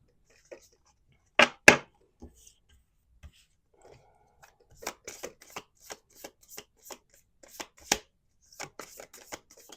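Cards being shuffled: a couple of loud riffles, then a string of quieter snaps and taps as the deck is handled, nearby with no talking.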